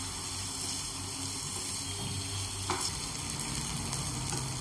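Soya chunks for soya chilli are stir-fried on a high gas flame, giving a continuous close sizzle with scraping and tossing noises, including one sharp stirring clatter partway through.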